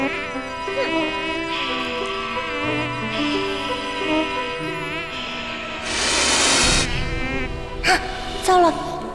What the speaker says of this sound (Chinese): 糟了，蚊子没赶走，却吵醒了紫萱